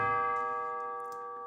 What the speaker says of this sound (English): So we start with tubular bells, very minimal.